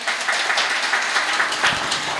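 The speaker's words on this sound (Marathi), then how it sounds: "सगळ्यांनी जोरदार टाळ्या वाजवाव्या." A crowd at a village temple gathering claps hard together, a dense, steady wash of applause with no break.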